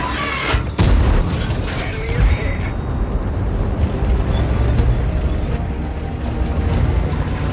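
Gryphon self-propelled artillery firing in World of Tanks, a heavy boom near the start followed by a long rumbling, roaring battle soundscape with low engine drone.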